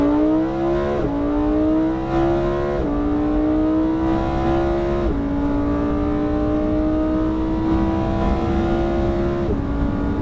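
Lamborghini Huracan engine at full throttle on a racetrack, a loud steady high-pitched roar climbing in pitch through each gear then dropping at several upshifts, heard from inside the car.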